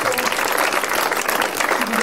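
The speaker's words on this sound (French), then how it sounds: "On peut les applaudir, s'il vous plaît." Conference audience in a hall in France applauding a network's story, a dense, steady wash of many hands clapping throughout, close and full, with some voices mixed in.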